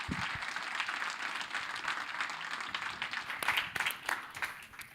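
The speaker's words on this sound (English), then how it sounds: "A round of applause, and we're done." Applause from the audience at a Swedish sommelier championship, a soft, fairly distant patter of many hands clapping that swells slightly toward the end, with a faint voice in the background.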